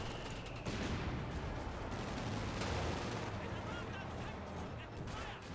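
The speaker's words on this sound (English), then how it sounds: "Ooh, multiple good mortar hits." Mortar shells land in Company of Heroes 2, a World War II strategy game, in a dense stretch of overlapping blasts and gunfire rumble, while a commentator talks over the battle.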